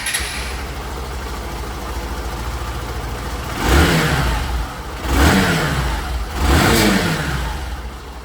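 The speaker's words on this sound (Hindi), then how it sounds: "इस इंजन की आवाज़ आप लोग सुन लीजिए।" A Hero Super Splendor Xtec 125 motorcycle engine idles steadily, then gets three sharp throttle blips at regular intervals, each rising and falling back to idle, heard close with no talking.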